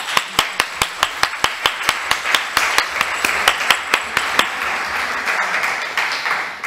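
Conference audience applause that starts as slow, sharp, evenly spaced claps, likely from a single pair of hands up close, over a softer spread of clapping that builds into a fuller round before the claps fade.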